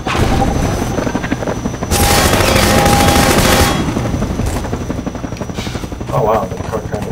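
A helicopter gunship in Half-Life 2: Episode 2 roars overhead and fires a loud burst of rapid machine-gun fire, with booms and impacts around it and a rotor drone that continues after the shooting stops.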